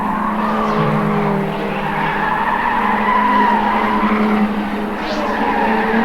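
A 1989 Toyota Supra MA70 Group 3E race car at Amaroo Park screams past under sustained engine roar, with tires skidding and squealing through the corners, loud and continuous throughout.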